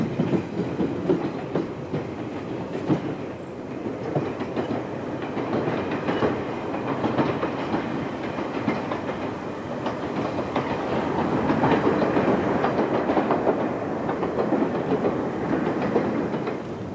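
A skipper diesel train rolls across Exmouth Junction near Exeter alongside an Exmouth branch train, giving a steady mid-distance rumble with rhythmic clickety-clack of wheels over rail joints, continuous for about seventeen seconds with no talking.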